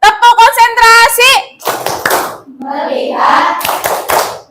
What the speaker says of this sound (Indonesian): Kita tepuk konsentrasi.